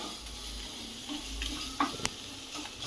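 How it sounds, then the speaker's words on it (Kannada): Food fries and is stirred in a pan, a soft steady sizzle with a couple of faint scraping knocks, close and quiet with no voices. "ಸೊ ಅದನ್ನು ಉರಿಬೇಕು, ಅದು ಫ್ರೈ ಆಗೋವರೆಗೂ"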